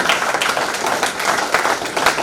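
Audience applause at a formal ceremony marking an MoU with the Bihar Startup Fund Trust, a dense, steady wash of clapping from many hands, fairly loud and sustained with no voices over it.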